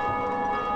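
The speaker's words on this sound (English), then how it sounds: "Oh, someone else rang the bell." Bell tolling in the Dark Souls video game, a brief sustained metallic ring with a rich steady hum of overtones, loud and alone.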